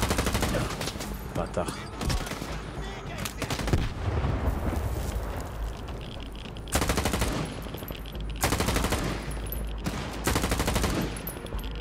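Loud bursts of automatic gunfire in STALKER 2, sustained rattling volleys with short gaps between, while a man reacts with brief remarks.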